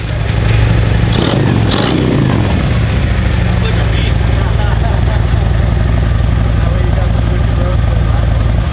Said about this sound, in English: That nice lopiness of the cam and such, and the exhaust paired well.